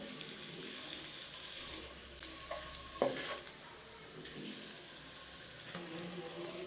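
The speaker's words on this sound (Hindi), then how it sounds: "इसको हम थोड़ा सा कुक करेंगे। जब तक हमारे अंडे ब्राउन हो जाए।" Eggs frying in a pan for egg korma, a soft continuous sizzle with occasional stirring scrapes and a sharper clatter partway through, heard close without speech.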